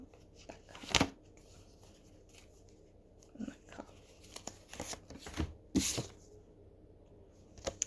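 Tarot cards shuffled in a quiet room, a few sharp slaps and soft riffling bursts spaced irregularly, close and fairly faint against low background hiss.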